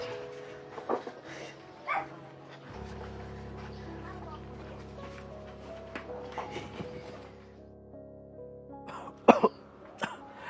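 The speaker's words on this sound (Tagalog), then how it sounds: "so malala na po ng ubo ko" Several separate coughs, some sharp and some rough, are scattered over a steady low hum, with a pair of louder coughs near the end.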